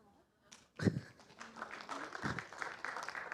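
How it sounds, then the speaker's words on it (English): An audience at a youth town hall on tribal politics and equitable development breaks into applause, a short burst of clapping that swells and continues steadily, mixed with faint voices. "you want to give him a clap?"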